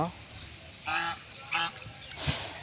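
Three loud honks from a goose, spaced apart over a murmur of background sound, fairly close.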